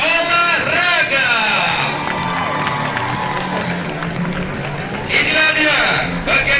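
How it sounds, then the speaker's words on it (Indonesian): Crowd cheering and applauding loudly at a campus student orientation event, sustained across the whole stretch with shouts and whoops rising near the end and babbling voices mixed in. "tepuk tangan yang meriah bidang kesehatan dan olahraga"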